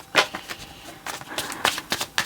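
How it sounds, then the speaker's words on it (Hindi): Tarot cards are shuffled by hand in a quick run of riffling, papery flutters and soft slaps, close and moderately loud, with no talk. "कार्ड्स निकाल लेते हैं।"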